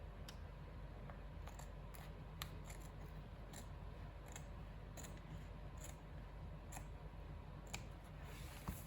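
Scissors trim paper for a junk journal cover, a faint series of small crisp snips and clicks spaced irregularly over a quiet room hum.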